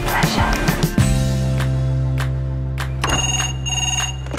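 A telephone rings indoors with loud, repeated electronic ringing tones that sustain and repeat, and brief knocks and handling noises sound alongside.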